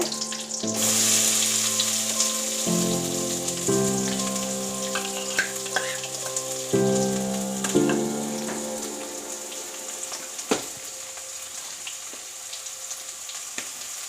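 Steady sizzling and frying of chopped onions in hot oil, with a loud crackle that settles into a softer continuous hiss and occasional pops.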